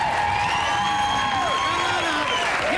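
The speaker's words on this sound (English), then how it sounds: "how about a round of applause from my dummy, Mr. David Strassman" A comedy club audience at the Improv cheering and whooping for ventriloquist David Strassman, a loud, continuous roar of voices with rising shouts and some applause throughout.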